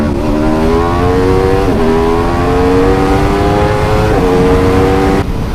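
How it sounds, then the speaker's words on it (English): An Aprilia RSV4 1100 Factory or Suzuki GSX-R1000R superbike accelerates hard in first gear with wheelie control, its engine note climbing loudly in repeated rising sweeps with brief dips at gear or throttle changes, close and continuous. "Let's give it a little bit of stick in first gear here. And just the wheelie control."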